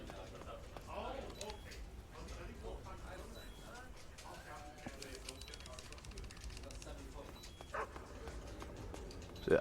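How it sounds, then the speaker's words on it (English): Dogs bark in pursuit through the sewers in Metal Gear Solid 3, the barks faint and scattered beneath a dense, murky game soundscape with splashing and movement. "you can hear the dogs sort of coming up behind you"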